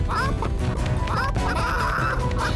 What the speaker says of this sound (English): The chickens are stampeding.